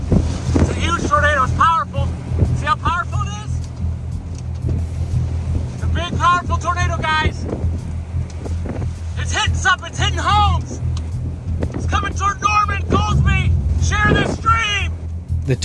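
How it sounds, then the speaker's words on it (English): Roaring tornado inflow wind batters a microphone near a large tornado outside Cole, Oklahoma, a loud, steady rumble that persists throughout under excited voices talking. "The tornado is pulling wind towards it in something called inflow."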